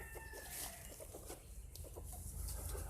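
Chickens and roosters clucking on a farm, several birds giving short, irregular clucks and calls close by over a low background rumble.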